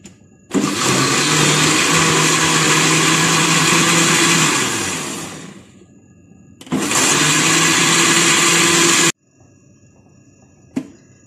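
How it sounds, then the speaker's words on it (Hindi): A kitchen blender whirs loudly while mixing banana cake ingredients with ground sugar in a jug, running in two bursts, about five seconds then two more after a pause, before stopping. "इस ब्लेंडर को आप थोड़ा सा चला लेंगे।"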